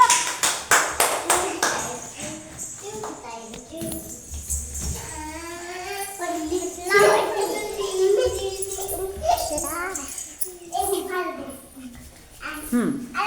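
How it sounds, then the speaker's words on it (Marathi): Children at an anganwadi play session clap their hands in several bursts of rapid claps while a woman calls out instructions over them and kids chatter nearby. "छान टाळ्या वाजवा सगळ्यांनी"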